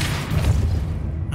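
The Depulso spell goes off in Hogwarts Legacy during a puzzle, a single heavy low boom with a rumbling body that swells and then quickly fades out.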